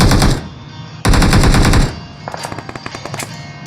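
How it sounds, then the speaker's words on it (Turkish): Video game gunfire: two loud bursts of rapid automatic fire, followed by a quicker, lighter series of separate shots. "Adam şuradan sıktı ama nereden sıktı görmüyorum."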